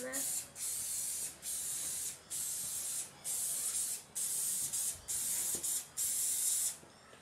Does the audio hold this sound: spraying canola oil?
yes